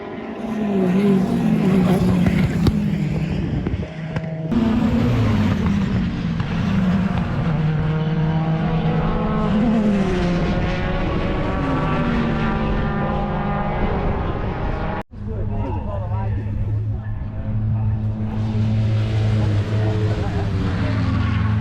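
A Citroen AX rally car at Oulton Park is heard from close by, its engine loud and continuous. The revs climb and fall repeatedly, with brief drops at gear changes.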